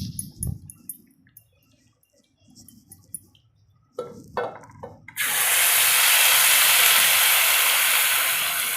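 Masala hits medium-hot oil for a dhaba-style chicken curry, bursting into a loud, dense, steady hiss that starts suddenly after some quiet clatter and handling noises, then sizzles on close and strong without pause.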